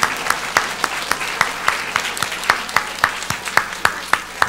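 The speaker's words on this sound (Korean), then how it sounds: "수고의 박수 한번 드립시다" Church congregation applauding, a moderate spread of clapping with distinct, regularly spaced loud claps from nearby hands cutting through the softer crowd patter.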